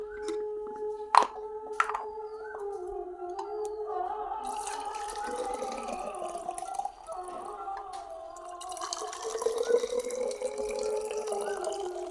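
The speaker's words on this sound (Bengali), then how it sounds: "এই যে ফুটানো জলটা ছিল তো এগুলো এখন বোতলের মধ্যে ঢেলে দেবো" Boiled water pours into a bottle, a close gurgling, glugging stream whose tone rises as the bottle fills, with a couple of knocks near the start.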